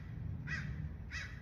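Two distinct crow caws, spaced about half a second apart, moderately distant over a low rumbling background outdoors near a beach.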